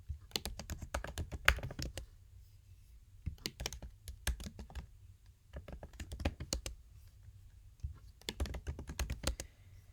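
Quick bursts of typing on a computer keyboard, crisp close key clicks in rapid clusters separated by short pauses of quiet.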